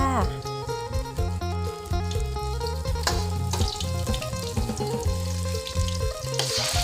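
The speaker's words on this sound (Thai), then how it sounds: "ตั้งกระทะใส่น้ำมันให้ร้อนนะคะ แล้วก็เอากระเทียม ลงไปผัดให้หอมเลยค่ะ" Garlic stir-frying in hot oil in a wok, the first step of a Thai pad see ew with rice vermicelli and marinated pork, gives a steady sizzle under background music.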